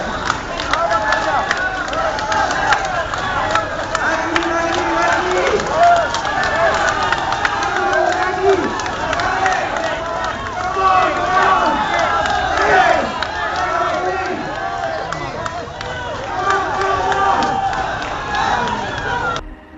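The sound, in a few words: crowd cheering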